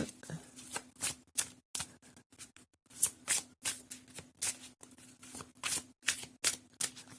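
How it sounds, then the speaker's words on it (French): Cards from an oracle deck of fairy cards are shuffled and handled, producing a quick, irregular series of crisp flicks and taps, close and fairly loud, with no speech. "On va tirer une petite carte."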